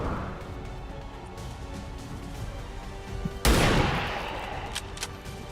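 A single sharp, loud gunshot rings out in the turn-based strategy game XCOM 2, bursting abruptly over a low ambient hum and tailing off into a lingering echo.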